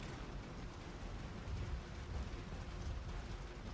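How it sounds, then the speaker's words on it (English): Hail pelts down in a Gears of War 2 storm, a dense, steady rushing clatter of impacts with a low rumbling undertone, continuous and fairly loud throughout. "Goddamn hail won't let up."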